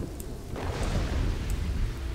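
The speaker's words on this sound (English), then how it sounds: "Oh, rain." Steady rain hisses and patters in Kingdoms and Castles, a broadband wash with a low rumble underneath, continuous and fairly close with no talking.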